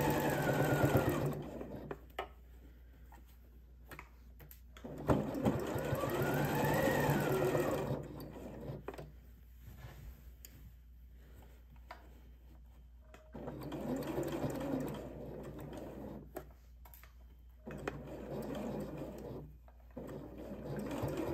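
Sewing machine stitching heavy coat fabric in bursts of steady mechanical whirring, running about 5 s at a time with quiet pauses between runs; no talk over the sound.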